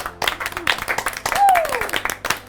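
A game show studio audience claps in bursts while a host keeps talking over them. A sliding whistle-like tone rises through the middle.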